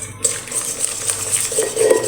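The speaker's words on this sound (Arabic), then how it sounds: "غادي نخلطوا المقادير" Pizza dough ingredients, flour and sugar, being mixed in a bowl with a utensil: close clinking and scraping against the bowl in irregular bursts, brief and alone.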